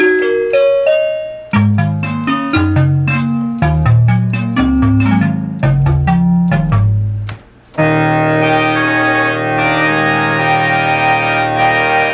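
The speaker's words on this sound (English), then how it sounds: "Kind of an 80s trumpet sound." A restored Memorymoog synthesizer plays a quick run of punchy brass-like notes, then settles into a loud, bright sustained 80s trumpet-style chord.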